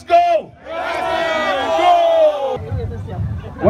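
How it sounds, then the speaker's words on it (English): A crowd at a corporate family day event shouts a loud group cheer together, a sustained chorus of many voices lasting a couple of seconds, followed by scattered chatter and another rising shout. "let's all do a common cheer"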